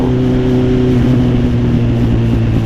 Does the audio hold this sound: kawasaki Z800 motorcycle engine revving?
yes